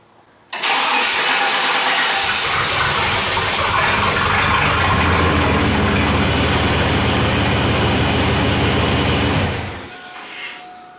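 A GM 350 V8 or 4.3-liter V6 with a failing spider fuel injector cranks and starts, then runs with a loud, steady, rough drone for about nine seconds before shutting off, with no talk over it.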